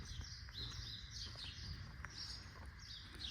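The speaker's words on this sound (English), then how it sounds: "I'm hearing birds, but I can't even see them." Several birds chirp and tweet outdoors in a hotel garden in Marrakech, short scattered calls, fairly faint and at a distance over a quiet background.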